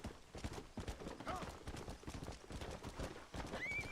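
A horse gallops in Red Dead Redemption with quick rhythmic clip-clop hoofbeats and a whinny near the end, loud and close, with faint talk underneath.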